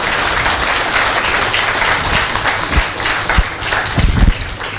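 Loud, dense applause fills an indoor award ceremony hall, a steady wash of many hands clapping throughout, with a few heavier thumps near the end and no speech over it.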